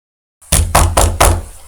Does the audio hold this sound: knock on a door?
yes